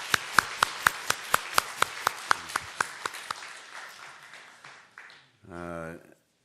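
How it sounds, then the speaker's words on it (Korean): Congregation clapping to welcome a family at a Sunday church service, starting with a run of crisp, rhythmic claps that thin and fade, followed by a brief spoken word at the end. "자, 박수로 환영하겠습니다"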